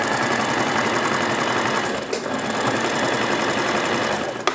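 A sewing machine runs continuously while stitching a jacket's lining, a steady close, loud mechanical whir with rapid needle chatter and a brief pause near the end.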